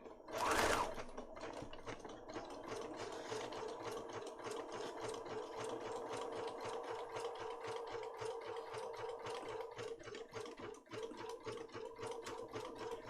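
A sewing machine stitches junk journal pages in a steady, fast rhythmic whirr that runs close and continuous, with a louder burst near the start.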